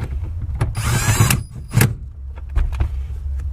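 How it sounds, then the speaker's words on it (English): Bucket seat being bolted into a Nissan 350Z and torqued to spec, with short bursts of a power tool whirring and ratcheting close by, broken by brief pauses and small clanks. "Last step, bolting it in."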